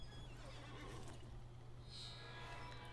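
Horse neighing in the Lord of the Rings Online game, a steady whinny over a constant low hum and background game ambience, with no talking.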